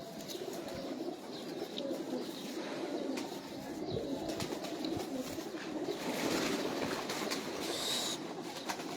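Domestic pigeons of an old flying breed cooing on a rooftop, continuous soft coos layered over steady outdoor background noise throughout.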